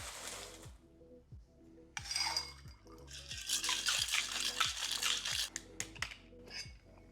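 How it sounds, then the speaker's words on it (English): A cocktail shaker holding bourbon and crushed ice being shaken, giving rhythmic rattling and clattering ice hits in a steady beat for several seconds, close and fairly quiet, with no talk. "let's get some crushed ice in here and shake this up."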